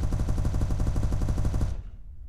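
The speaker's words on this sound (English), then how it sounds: "I'm sending you a target with no shield, so you can easily destroy this target with your turrets" Spaceship turret weapons in SpaceBourne 2 fire a rapid, evenly spaced automatic burst at a target, loud and close, stopping abruptly after under two seconds and leaving a low hum.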